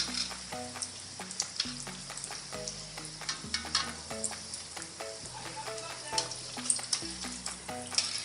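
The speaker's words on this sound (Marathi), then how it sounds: "आता आपण याला खमंग परतून घेऊयात." Vada for Mumbai-style vada pav crackle and sizzle in hot oil in a pan, a dense, continuous frying hiss close by with scattered pops and occasional stirring sounds, no voices.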